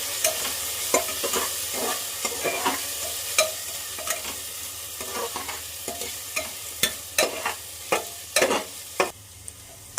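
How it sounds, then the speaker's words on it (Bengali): Chopped potatoes fry with onions in an oily pan for ghugni and are stirred: a continuous close sizzle broken by repeated scraping strokes that grow sharper and more spaced toward the end, with no voices. "এবার ওর মধ্যে আমি দিয়ে দেবো কুচনো আলুটা"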